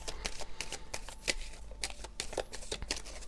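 Tarot de Marseille cards being shuffled and handled, a rapid, close run of crisp flicks and slaps of card stock, continuous and without speech.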